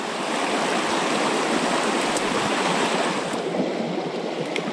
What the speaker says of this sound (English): So I've come into this little side creek, and it's actually up and a little bit dirty